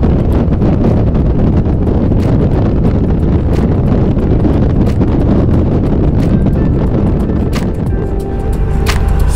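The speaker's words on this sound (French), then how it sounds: "c'est pas le son de la moto, c'est le bruit du vent." Loud, constant wind buffeting the microphone with a low roar, like riding at speed on a motorcycle.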